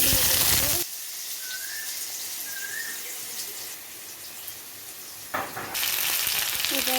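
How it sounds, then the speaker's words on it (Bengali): Potatoes sizzle in hot white vegetable oil in a wok with a steady, soft hiss, framed by louder bursts of crackling frying at the start and end. "এবার আলুগুলোকে ভেজে নেব।"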